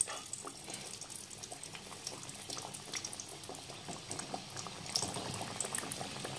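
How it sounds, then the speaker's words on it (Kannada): Potato-stuffed aloo kachori fry in a shallow layer of hot oil over a medium flame, giving a steady close crackle and bubbling sizzle with small pops throughout. No one speaks. "ಈಗ ಇದನ್ನು 1 ನಿಮಿಷಗಳ ಕಾಲ ಮೀಡಿಯಂ ಫ್ಲೇಮ್ನಲ್ಲಿ ಫ್ರೈ ಮಾಡ್ಕೋಬೇಕು ನೋಡ್ರಿ"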